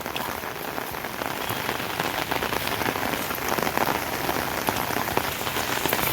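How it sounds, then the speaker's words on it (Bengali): Heavy rain pours onto a flooded road, a dense, constant patter and splash that stays loud and even throughout, with no voices. "চারিদিকে কানায় কানায় বৃষ্টিতে ভরে গেছে রাস্তা ডুবে গেছে"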